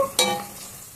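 Sliced onions sizzle and fry steadily in a pan for a fish curry, with a brief stirring scrape near the start, close and alone with no talk.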